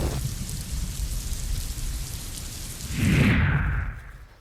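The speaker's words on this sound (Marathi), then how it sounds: "कोल्हापूरमध्ये पावसाची संततधार ही सुरूच आहे" Heavy, steady monsoon rain in Kolhapur, India hisses continuously, with a deeper rumbling swell near the end before the sound cuts off abruptly.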